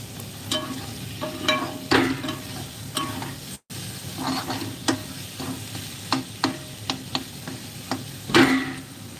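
Taro pieces cook in a pan with a soft continuous sizzle, broken by repeated sharp clicks and scrapes of a spatula stirring against the metal and a brief gap partway through.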